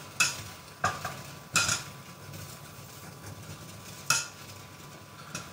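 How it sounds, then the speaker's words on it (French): Butter stirred into chocolate melting in a pan, heard as a few sharp utensil scrapes and knocks against the pan spaced over a quiet background. "À bien remuer, je vais voir mon chocolat qui est bien en train de fondre."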